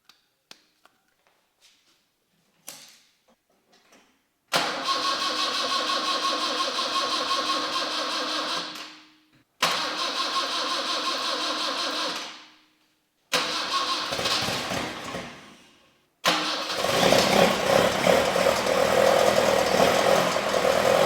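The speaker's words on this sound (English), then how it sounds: "turn the key for the first time and see if it starts." A few clicks and cranking attempts, then a 1967 Alfa Romeo Spider engine with fuel pressure far too high catches and roars, cuts out, restarts several times, and finally keeps running loudly and roughly.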